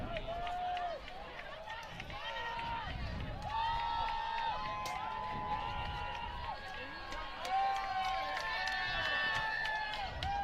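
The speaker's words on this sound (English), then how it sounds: "Got the crowd cheering for Pride." Crowd noise at a Premier Ultimate League frisbee game between Columbus Pride and Indianapolis Red, a steady roar of spectators with scattered whistles and cheers running under continuous commentary throughout.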